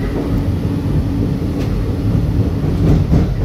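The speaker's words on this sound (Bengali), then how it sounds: "এইটা হলো আমাদের ব্লু লাইনের মেট্রো, সোজা বেরিয়ে যাবে।" A Kolkata Blue Line metro train rolls loudly and close along the platform, a steady low rumble of wheels and carriages with faint rhythmic clatter and no talk.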